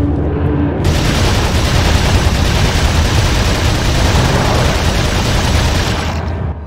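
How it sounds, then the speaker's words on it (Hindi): Sustained gunfire in Resident Evil 4 as a whole magazine is emptied, a dense, loud, continuous roar of rapid shots lasting about six seconds before cutting off. "इसकी सारी गोलियां उतार देता हूँ अभी इसमें।"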